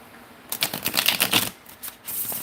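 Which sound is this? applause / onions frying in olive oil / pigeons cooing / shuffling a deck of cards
shuffling a deck of cards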